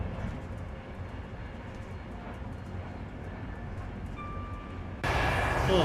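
A modded train engine in the Train Sim video game on the Cresston Revamped route drones steadily, with faint tonal whines, then swells noticeably louder near the end; no one speaks.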